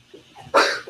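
A single short, close sneeze bursts out after a faint breath, loud against a quiet indoor room.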